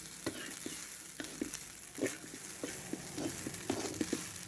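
Day-old cooked rice stir-fried in a pan for colorful fried rice: a continuous bright sizzle with repeated scraping and tapping strokes of a utensil, close and steady, with no talking.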